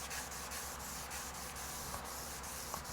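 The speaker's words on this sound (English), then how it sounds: "we're going to polish this fretboard up, get rid of any little inconsistencies" Guitar fretboard on a custom build being polished by hand, a continuous soft rubbing and scrubbing with a faint rhythmic stroke pattern, close up and fairly quiet, no talking.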